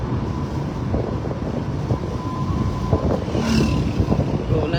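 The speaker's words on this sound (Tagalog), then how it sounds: "Lakas ng hangin." Loud gusting wind buffeting the microphone during a Tour of Luzon cycling individual time trial, a constant roaring rumble with fluttering bursts and a faint engine hum beneath.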